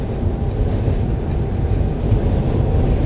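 Strong gusting wind buffets a truck while driving, a steady loud rumbling roar of air and road noise that stays constant throughout with no voices.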